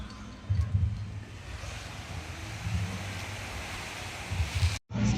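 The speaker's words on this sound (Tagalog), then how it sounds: "Guys, dagat na yan." Sea surf rolling along the shore, a low washing rumble swelling and easing under wind buffeting the microphone, with a brief dropout near the end.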